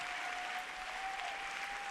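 Audience applause for a jury member at the closing ceremony of the 45th Film Meetings festival in Niš: steady, continuous clapping from a seated crowd with a faint sustained tone running through it, no voices.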